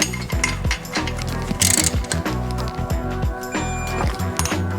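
Bolts on a BMW N54 flywheel being tightened with a torque wrench, giving repeated mechanical ratcheting clicks in short rhythmic bursts, close and fairly loud, with workshop clatter between strokes.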